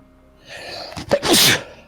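A single close sneeze, a short sharp inhale building into a loud burst of air, then quiet.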